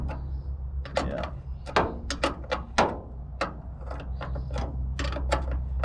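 Quick ratcheting clicks of a half-inch wrench tightening a new mirror on a 1962 Chevrolet C10 truck door, close and irregular in short bursts, with a faint steady hum underneath.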